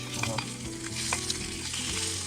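Plant-based sausages sizzling and burning on a hot steel plate over a camping gas burner outdoors, a close, steady frying hiss with scraping and stirring clatter, no voices.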